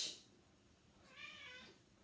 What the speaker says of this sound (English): my cat's also joining in, helping us to do the sounding out today